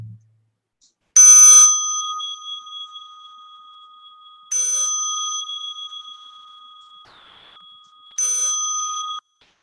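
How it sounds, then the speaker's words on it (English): A meditation bell rings three times, each clear metallic strike ringing out alone and decaying slowly into near silence before the next, spaced a few seconds apart. "As you listen to the bell"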